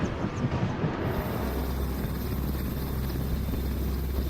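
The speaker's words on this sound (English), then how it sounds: "a 15-ton helicopter hovering above the deck of a warship at sea" A 15-ton military helicopter hovers above the deck of a warship at sea in heavy weather, giving a loud, steady low rotor drone and rumble that carries on without a break.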